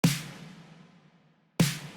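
Four snare samples layered in phase into one pop snare, struck twice about one and a half seconds apart, each loud crack followed by a long reverberant decay, with no talking.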